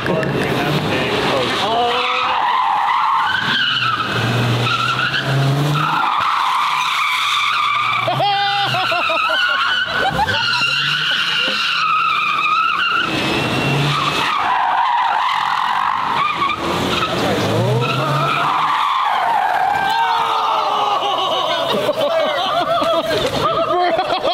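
A hypercar skids and squeals its tires for a long stretch in repeated loud howling bursts as the engine revs up and down, with voices and laughter mixed in.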